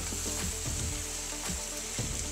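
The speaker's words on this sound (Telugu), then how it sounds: "ఇప్పుడు పాలకూర పచ్చి వాసన అంతా పోయే వరకు వేయించుకోవాలన్నమాట" Spinach sizzles and fries steadily in a hot pan, a dense continuous crackle with soft periodic stirring scrapes about every half second, close and fairly loud.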